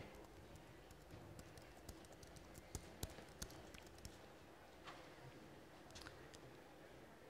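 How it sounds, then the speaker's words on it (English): Faint, irregular tapping of keys on a keyboard, soft clicks scattered unevenly with a few sharper strokes, heard from close by in a quiet room. "So here I'm going to start typing."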